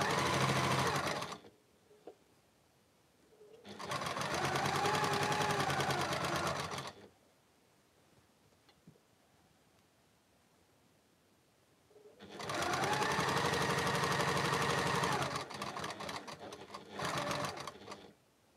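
A sewing machine runs in three long bursts as it stitches quilt sashing strips, a fast mechanical whirr that starts and stops abruptly, with quiet pauses between runs.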